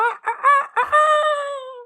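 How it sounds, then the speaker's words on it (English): A rooster crows loudly and close by, starting with a few choppy clucks and ending in a long drawn-out call. "That's a rooster. Roosters do crow."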